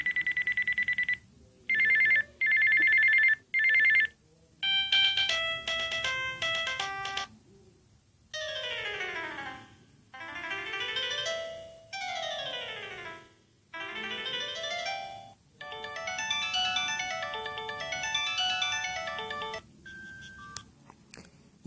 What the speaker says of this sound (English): the ringtones are pretty primitive. Some of them I think are MIDI files